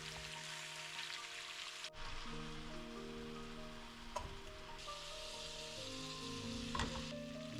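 Spice-marinated shrimp frying in hot oil, a steady close sizzle and crackle that continues throughout, with soft music playing underneath.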